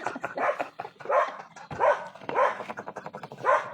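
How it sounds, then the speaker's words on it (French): Two dogs bark in quick repeated bursts, loud and close, with some higher yips mixed in and no voices over them. "Les deux chiens qui gueulent."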